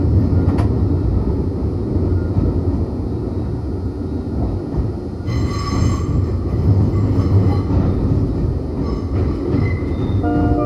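A Nagano Electric Railway limited express train runs loudly and steadily with a constant rumble of wheels on rails, and faint squeals and rattles come in near the end. No voices.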